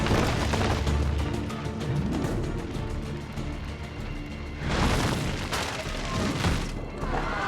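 Explosions crackle like firecrackers in Assassin's Creed II, a loud run of rapid pops and bangs followed by two heavier booms a few seconds later.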